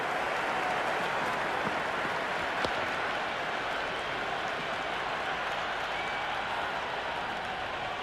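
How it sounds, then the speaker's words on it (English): A large stadium crowd in the Cricket 26 video game cheers and applauds continuously during an IPL match between LSG and DC, a loud, steady wash of clapping and crowd noise with no break throughout. "It's the most enthusiastic crowd you could ever see right now. There's a buzz, a real buzz coming from the stands."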